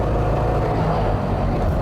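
Loud old Communist-era car engine running with the parking brake off and smoke trailing, a close steady low rumbling drone with no break.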